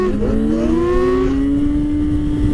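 Vehicle engine revving hard as a wheelie is popped, a loud rising whine that climbs in pitch and holds steady near the end, close and continuous with no talk.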